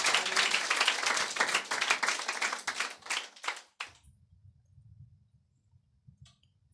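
Congregation clapping in a church during a Sunday worship service, a dense burst of applause that thins out over about four seconds and stops, leaving low murmur afterward.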